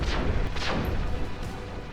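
Gun turrets in the futuristic tower defense game Defense Task Force fire in a dense barrage of booming shots, several loud blasts overlapping across a steady roar of continuous gunfire.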